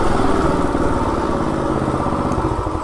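A stock Coleman RSV minibike with a 196cc engine runs steadily, its loud, buzzy single-cylinder drone holding nearly constant close by and sitting alone without talk.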